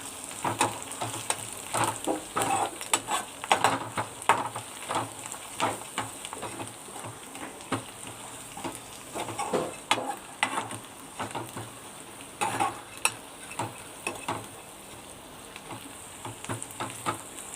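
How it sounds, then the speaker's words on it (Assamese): Ground spices, coriander and garam masala among them, stirred and frying in a pan for an Assamese muri ghonta, a steady sizzle broken by frequent scraping stir strokes, close and moderately loud with no talking. "ধুনীয়াকৈ ভুনি ল'ব লাগিব মছলাখিনি"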